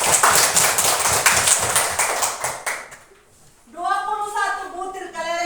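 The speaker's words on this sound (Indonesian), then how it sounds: "mari kita beri tepuk tangan buat teman, dua orang teman, yaitu Putri dan Merisa." Classroom students clap together for about three seconds in a loud, dense burst of hand claps, which then stops. A short pause follows before a voice speaks.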